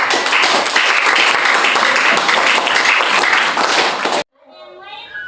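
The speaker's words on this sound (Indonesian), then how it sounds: "Tepuk tangan untuk" Students in a classroom clap together in a dense, lively burst of applause for about four seconds, then it cuts off sharply and a voice speaks afterward.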